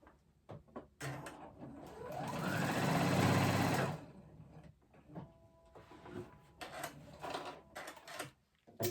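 Sewing machine stitching straps onto a pair of overalls, with short bursts of stitching, one longer run in the middle and small handling clicks in between, close and fairly quiet.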